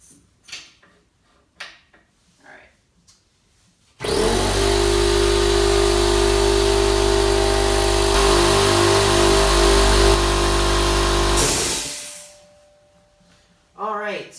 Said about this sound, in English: I'm gonna have to turn the compressor back on to recharge it